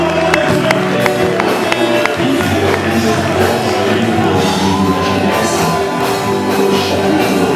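Church congregation cheering and acclaiming the Lord at a Sunday service, a loud sustained crowd of shouts, whoops and clapping, with voices calling out over the din.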